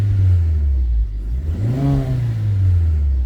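A turbocharged car engine, freshly serviced with new oil, idles close by and then revs up once and settles back down, a smooth rising and falling drone.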